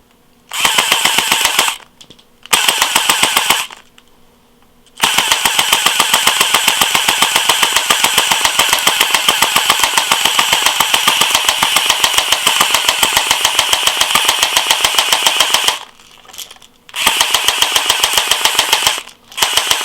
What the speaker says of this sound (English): Let's watch the FPS fluctuation on full auto fire.